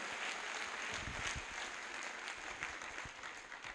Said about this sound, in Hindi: उनके लिए चाहता हूं जोरदार तालियां हो जाए